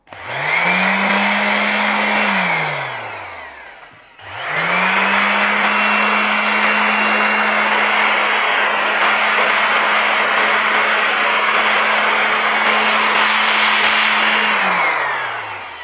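A Bosch GSS 140 orbital sander's motor whirs up, runs briefly, winds down, then starts again and hums steadily for several seconds before spinning down.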